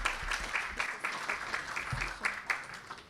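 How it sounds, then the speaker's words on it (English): An audience at a university lecture event gives a short burst of steady applause, many hands clapping at a moderate distance. "let us give Prof. Mansor another round of applause,"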